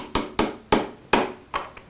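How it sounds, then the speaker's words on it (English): Six sharp hammer taps on a steel transfer punch marking hole locations in a shop, evenly spaced and close, each a crisp metallic strike with brief decay, no talking. "I need my hammer. And just put our transfer punch in place"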